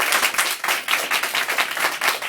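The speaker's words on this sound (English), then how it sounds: "So I just would love to give all the young leaders another round of applause." A crowd at a youth political event gives a round of applause, loud, close clapping in uneven bursts that keep going for the whole stretch.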